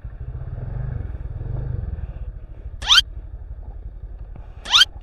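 A motorcycle idles close by with a low, steady rumble. Two sharp, brief scraping sounds cut in over it a couple of seconds apart.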